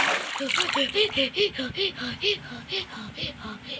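A Minecraft character swims through water, producing rhythmic repeated splashes and sloshing strokes at a steady pace, heard up close beneath continuous talking.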